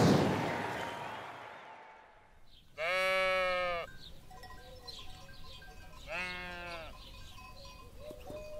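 Sheep bleating in a rural Ethiopian setting: two loud, drawn-out wavering bleats close by, separated by a few seconds of quiet, after a short rushing noise at the start.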